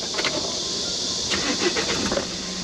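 A manual-transmission car on a Korean driving-licence test course is started with the clutch pressed, and the engine settles into a steady, noisy hum close by with a few faint clicks and knocks, no talking.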